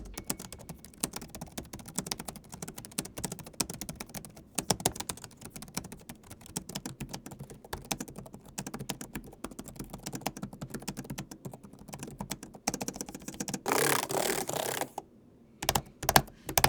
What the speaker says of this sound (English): Let's actually take a listen to how these amazing keyboards sound.